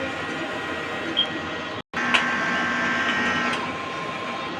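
A DTF printer running its self-check gives a steady mechanical whir and hum with faint tonal whines, broken by one brief silent dropout and a light click partway through.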